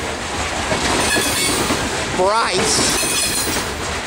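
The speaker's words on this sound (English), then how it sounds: "T-408 usually is about at least 100 car loaded coal train" A long CSX loaded coal freight train of about a hundred cars rolls past steadily, with continuous rail rumble and a brief wheel squeal in the middle, while a voice speaks briefly.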